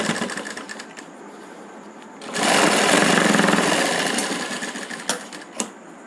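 A sewing machine runs a second line of stitching on a kurti in one loud burst of about two seconds, with quieter handling noise before and after.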